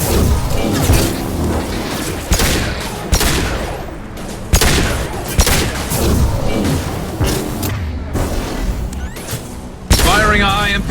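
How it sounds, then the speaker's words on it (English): High-impact gunshots and explosions in the Mass Effect 2 combat mission, with sharp heavy blasts every second or two over a constant roar of battle noise, loud and close. "Firing a high-impact shot."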